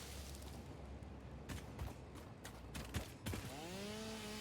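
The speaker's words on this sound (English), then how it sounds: "I've switched the chainsaw to single mode" Chainsaw in Satisfactory set to single mode, cutting trees, a steady loud droning whine with several cracking bursts from falling timber and a rising tonal sweep near the end.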